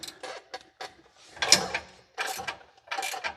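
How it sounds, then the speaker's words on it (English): An impact gun tightens the plate bolts on a suspension air bag, rattling out several short, sharp bursts separated by brief pauses, close and fairly loud. "I just tighten them up a little bit with the gun"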